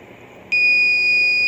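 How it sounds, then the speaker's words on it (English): A single electronic buzzer on a stopped car with obstacle detection sounds a sustained, shrill beep that starts abruptly and holds steadily over faint background noise. "so the buzzer beeps and the car is not moving"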